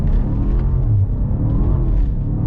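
A 2018 BMW M5 engine pulls hard in first gear with a loud, steady, rumbling drone heard up close and uninterrupted. The drone rises slightly as the car accelerates.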